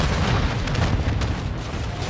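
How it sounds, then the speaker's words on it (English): A massive explosion in the video game Call of Duty: Modern Warfare III, heard as a loud, continuous low rumbling roar that stays heavy and steady for about two seconds, with no voices. "we shouldn't have been flying a helicopter so close to a massive explosion"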